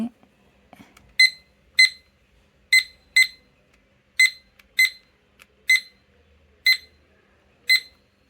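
A study timer beeps in repeated pairs of short, high electronic tones with brief pauses between each pair, clear and close against near silence.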